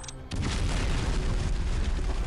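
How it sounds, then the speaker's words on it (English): Explosions in a city as a TV show sound effect: a sudden loud blast followed by a sustained, dense roaring rumble that fills the rest of the clip. "Tensu, we're seeing explosions in the city."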